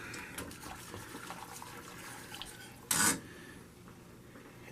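A spoon stirs a pot roast mixture in a pot on the stove, giving soft scraping and clinks of utensil against metal, with one brief louder burst of sound midway.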